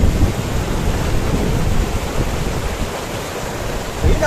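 Rushing mountain river water flowing under a footbridge on the trek from Gangotri to Gaumukh, a loud, continuous broadband roar filling the whole clip with no talk.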